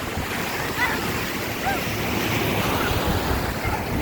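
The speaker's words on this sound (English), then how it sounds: "As you can see, folks, we're at the beach." Ocean surf washing onto a beach, a continuous close rush of breaking waves with gusty wind noise across the microphone and no clear talk.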